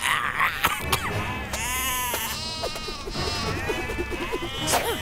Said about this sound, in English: remember that Singa is allergic to goats. Keep that thing away from me